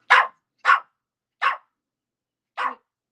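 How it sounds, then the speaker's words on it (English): A single dog barks four times in sharp, evenly spaced woofs, close and loud, with clean silence between each bark and no talking. "Back to the barking."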